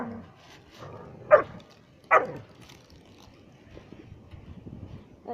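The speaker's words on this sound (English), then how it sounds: "The dog's gonna have a rant." A dog barks outdoors during a snowy blizzard, two sharp single barks about a second apart over a low background rumble.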